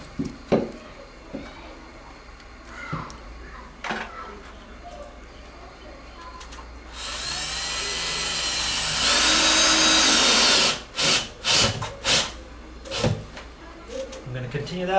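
Power drill driving screws into a drywall patch: a loud sustained whir for about three seconds, then several short separate bursts, with someone talking quietly before and between them.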